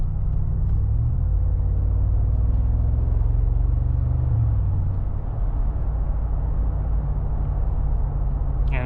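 Inside a 2025 Mercedes-AMG G63 on the move, a constant low road rumble and tire roar fill the cabin, steady and even with no talking.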